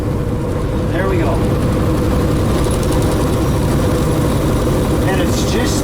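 A truck engine with a 13-speed transmission runs loud and close while being shifted, a steady heavy rumble that holds its level throughout.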